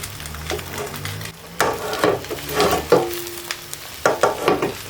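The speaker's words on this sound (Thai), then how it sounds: "จากนั้นเดี๋ยวเราจะมาเริ่มลงมือผัดกันเลยค่ะ" Thai-style Yuan noodles stir-fried in a pan, with scraping spatula strokes and bursts of sizzling coming in uneven waves; one brief tonal squeak rings partway through.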